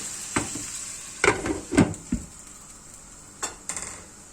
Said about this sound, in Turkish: Soğanlarımız da kavruldu.